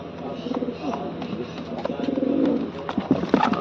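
Pigeons coo repeatedly in soft, throaty bursts close by, with a few faint voices and rustling underneath.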